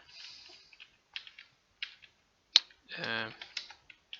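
Code typed on a computer keyboard in quiet bursts of close, crisp key clicks, with a faster flurry of presses partway through.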